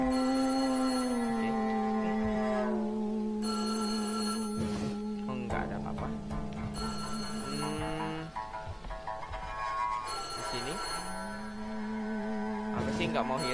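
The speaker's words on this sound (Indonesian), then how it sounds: "Gak mau hirauin dulu teleponnya." A telephone rings in the horror video game WhiteDay, its repeating electronic bell tones sounding steadily over a tense, droning game soundtrack with brief pauses between rings.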